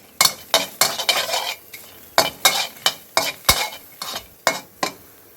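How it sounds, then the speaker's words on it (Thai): Garlic stir-fried in a pan over high heat: a quick, regular series of sharp spatula scrapes and clinks against the metal, a dozen or so strokes over a faint sizzle, close up. "เอากระเทียมลงไปผัดก่อน"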